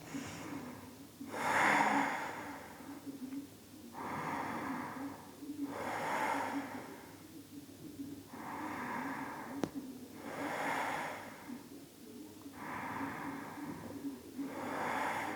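Slow, deep breaths during a yoga pose, with about six steady inhale-exhale cycles close to the mic, each one an airy rush of breath through the nose and mouth, in a quiet room.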